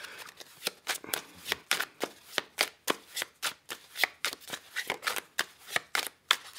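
A Rebel tarot deck is shuffled by hand: a steady, rhythmic run of about twenty crisp card riffles and slaps, close up and alone with no voices.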